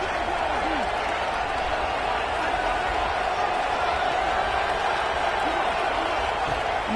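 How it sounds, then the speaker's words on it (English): Football stadium crowd at a Texas vs Texas Tech game roars steadily in a sustained wall of noise during a red zone defensive stand, with a commentator talking over it. "This crowd is trying to inspire this defense to make a big red zone stop."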